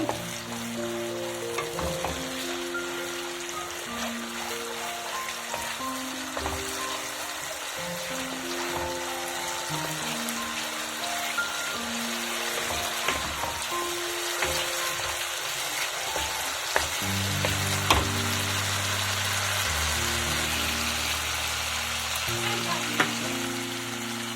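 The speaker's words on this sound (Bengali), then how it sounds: "এবারে আমি এর মধ্যে দিয়ে দেবো টমেটো পেস্ট দিয়ে আবার একটু নাড়াচাড়া করে নেবো" Tomato paste is stirred into a frying egg dhokla mixture, making a continuous sizzle with scraping stir sounds under sustained background music, no talking.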